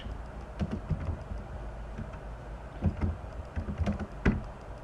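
Someone types on a computer keyboard nearby in irregular bursts of soft clicks and taps, with a few sharper keystrokes and no speech.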